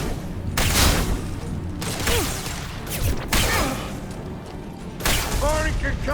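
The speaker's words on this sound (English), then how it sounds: "Firing concussive shot." A concussive shot and gunfire in the video game Mass Effect 2, heavy booming bursts with whooshes layered over game dialogue and a loud blast near the end.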